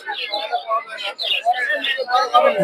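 A myna bird chattering up close at a livestock and bird market in Madhabdi, Narsingdi, with busy whistles and squawky chirps filling the moment without pause.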